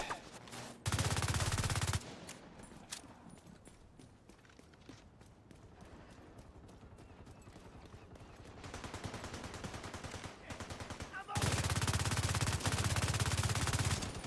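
Light machine gun fire in The Division 2, sustained rapid bursts of automatic shots in two loud stretches at the start and end, with quieter scattered shots between.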